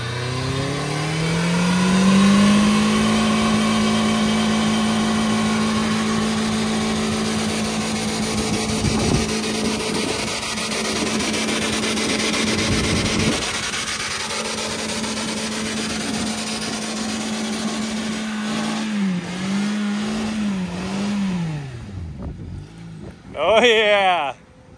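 A Toyota Yaris launching for a jump, its engine revving up and holding a strained high note before wavering, close, with people talking and cheering over it.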